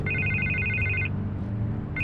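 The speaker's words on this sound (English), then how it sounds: "I can't get the phone to stop ringing." A telephone rings in Batman: The Telltale Series, a steady electronic trill repeating loudly for about a second, pausing, then starting again over a low background hum.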